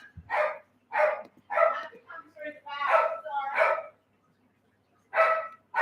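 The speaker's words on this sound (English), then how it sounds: "Can someone shut that dog up?" A dog barks repeatedly and loudly nearby in a quick, uneven series of sharp barks, with a short pause before a final pair.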